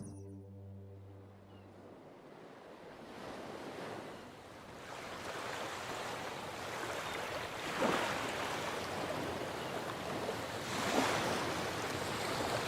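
Ocean waves wash steadily onto a tropical beach in a broad, continuous surf roar, with a couple of louder swells breaking partway through and no voices.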